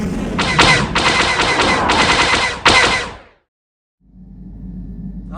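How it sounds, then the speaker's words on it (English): Gun turrets blasting at Sith fighters in the Star Wars KOTOR video game: loud, rapid bursts of repeated laser fire that stop abruptly, followed by silence and then a low rumbling hum. "Someone needs to get on those gun turrets. Take those fighters out before they report our position to the main fleet."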